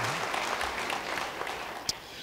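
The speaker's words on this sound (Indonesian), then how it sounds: "Beri tepuk tangan yang meriah bagi firman Tuhan." A church congregation claps together in sustained, dense applause that holds steady at moderate volume throughout.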